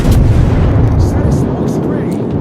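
Heavy battleship main guns firing in World of Warships, the USS West Virginia, a loud continuous low rumbling boom that fills the whole moment, with voices faintly present.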